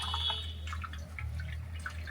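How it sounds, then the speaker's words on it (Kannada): Faint, irregular drips of pumpkin juice falling into a vessel, soft and close, over a low steady hum. "ಕೆಳಗಡೆ ಒಂದು ಪಾತ್ರೆ ಇಟ್ಕೊಂಡ್ಬಿಟ್ಟು ಈ ರೀತಿ ರಸ ತೆಗೆದುಕೊಳ್ತಿದ್ದೀನಿ."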